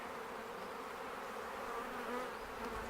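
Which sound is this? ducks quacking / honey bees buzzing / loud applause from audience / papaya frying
honey bees buzzing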